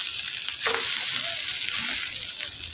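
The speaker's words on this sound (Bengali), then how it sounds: "আমি এখন এটা ভেজে দেব" Leftover rice fries in a pan with a steady, close hiss of sizzling oil and occasional scrapes of a spatula stirring it, without talk.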